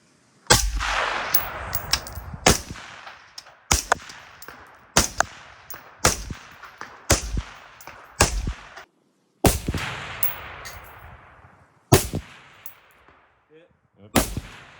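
AR-15 rifle fired at an outdoor shooting range, a dozen or so sharp, loud single shots spaced irregularly about a second apart, each followed by a brief echoing decay.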